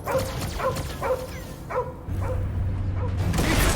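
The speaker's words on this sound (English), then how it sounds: "Get away from my dog!" A dog in the video game Guardians of the Galaxy barks in a run of four sharp, evenly spaced yips, then a low mechanical rumble takes over as the barking stops.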